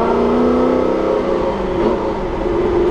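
A loud 1968 Chevrolet Camaro SS engine drones steadily up close, its pitch dipping and settling as it shifts into second gear, then pulling on with a rough, throaty hum.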